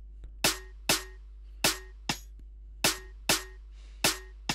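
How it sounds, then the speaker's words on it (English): Layered snare hits and a rim shot sample in FL Studio sound in a spaced, rhythmic sequence, each snare a bright cracking hit with a short tail and the thin rim clicks in between. "We got this big snare, and we got this rim shot."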